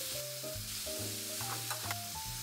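Shrimp seasoned with salt and pepper sizzle steadily in a skillet, a constant close frying hiss under louder background music, with a couple of brief clicks near the end.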